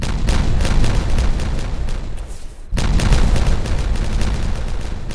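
Terrain being blasted in the building game Timberborn: dense, continuous rumbling detonations, loud and close, with a brief lull in the middle before the blasting resumes.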